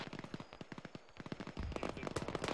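Rapid bursts of automatic gunfire crackle through a military video game battle in ShackTac, the shots coming in quick, dense volleys that swell louder toward the end, with no talk.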